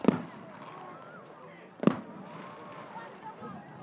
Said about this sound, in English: they'll ring the bell again as they explode more fireworks here at Viking Field